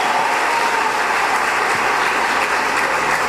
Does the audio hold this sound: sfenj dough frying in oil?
no